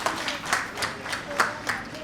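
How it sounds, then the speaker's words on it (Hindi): Audience at a birthday celebration clapping hands in a moderate, loosely rhythmic pattern, the claps fairly near and steady. "आज उसके लिए आगे बढ़ने के लिए तालियां बजा लीजिए"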